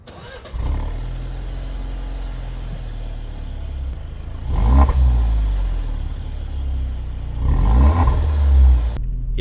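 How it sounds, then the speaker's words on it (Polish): An Alfa Romeo Giulia with a 2.0 turbo engine idles with a low, steady exhaust burble, then revs up twice in two rising surges before settling, loud and close. "Wydech za to, nie dość, że jest prawdziwy, to jeszcze bardzo miło mruczy."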